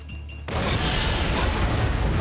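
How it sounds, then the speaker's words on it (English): In the video game Far Cry 6, a sudden loud burst of fireworks cuts in after a moment of near quiet, then gives way to a sustained crackling roar of explosions. "Fireworks."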